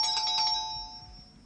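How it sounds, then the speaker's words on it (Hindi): A doorbell chimes in a home during a Hindi TV drama episode, a bright electronic ding with a few quick repeated tones that ring on and fade away alone, with no talk over it. "घंटी भी उनकी नहीं लगती।"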